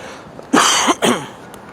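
Two harsh coughs in quick succession, close and loud, with a brief pause between them and quiet before and after.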